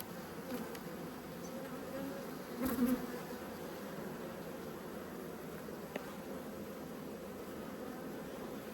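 Honey bees in an open hive, buzzing as a dense, steady drone that holds close and even, with a brief louder swell partway through and no talking.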